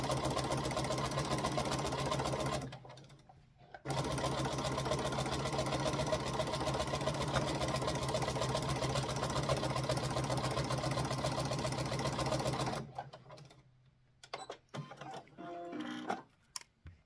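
Sewing machine stitching lines across a quilt sandwich, a loud steady rapid mechanical whir that pauses briefly, resumes for a long run, then stops into quieter handling noises.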